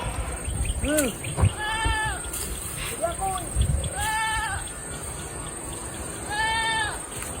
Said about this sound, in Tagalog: Kalaban na kambing doon, no?